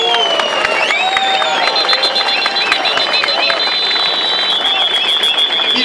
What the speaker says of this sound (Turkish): Alkışlarınızla lütfen.